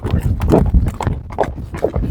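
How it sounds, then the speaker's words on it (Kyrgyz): Horse hooves clip-clop in a steady, fairly loud rhythm close by, with a faint voice in the background. "Ат екен, атты да көрөлі."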